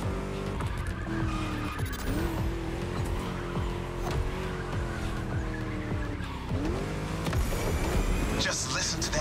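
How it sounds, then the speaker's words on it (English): A racing video game V8 car engine roars loud and steady, revving with rising and falling pitch across laps, with tire squeal and skidding as the car corners, and a voice talking over it. "Just listen to that V8,"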